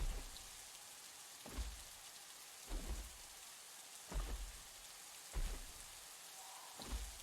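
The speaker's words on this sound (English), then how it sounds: "it's raining, which means they can't see me and they can't sniff me" Rain falling in the video game The Isle, a faint continuous hiss broken by a low thump or rumble every second or so, with no voices.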